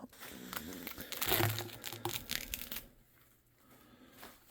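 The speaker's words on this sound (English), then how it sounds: "we're taking off this old duct tape" Old duct tape is peeled and crinkled off a part during a Jeep Comanche restoration, a close rough tearing and crackling that peaks early then fades to quieter rustles.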